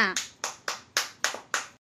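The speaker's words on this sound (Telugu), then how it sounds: "claps for Shivanya" Children clap for Shivanya in a group, six or seven sharp, evenly spaced bursts that come close together and then stop.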